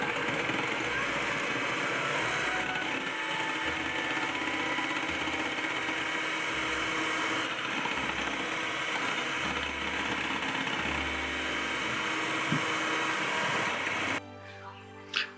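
An electric mixer whips egg whites with sugar toward stiff peaks, a steady buzzing whir with a pulsing low hum that runs continuously before cutting off near the end.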